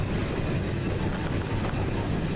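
A train rolls past just below a ridge with a tree overhead, a loud, steady rumble of wheels and rail noise filling every moment without a break.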